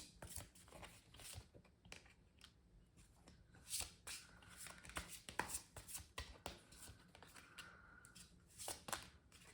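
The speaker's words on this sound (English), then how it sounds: "let me just do a quick shuffle" Tarot cards riffle and slap together in quick, uneven bursts of crisp shuffling, close and fairly quiet, with no talking.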